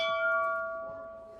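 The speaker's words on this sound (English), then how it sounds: "Let's go ahead and ring the bell." A single bell at a replica train station rings out once with a bright metallic strike and then decays slowly into a fading, sustained tone.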